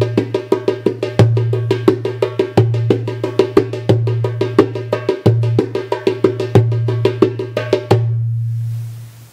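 A dumbek plays a quick, steady rolling maqsum rhythm of sharp slaps and deep booming bass strokes, ending with a ringing final stroke.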